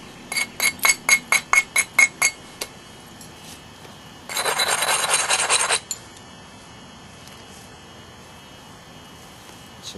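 Stone flintknapping on a biface: a quick run of about eight sharp, evenly spaced clicking taps as small flakes come off, followed by a short scraping rasp, close and fairly quiet with no voices.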